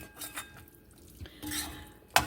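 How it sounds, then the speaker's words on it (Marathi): Schezwan chutney ingredients are stirred and sautéed in a pan, giving scraping spoon strokes, faint sizzling and a sharp metallic clink at the end, all close by with no talking. "आणि परत आता त्याला आपण एक एखादा मिनिट असं परतून घ्यायचं आहे सगळे पदार्थ ह्याच्यात मिक्स व्हायला पाहिजेत व्यवस्थित"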